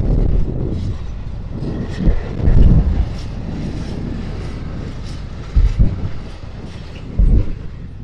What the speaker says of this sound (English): this is the main electrified train line between the Highlands and Prague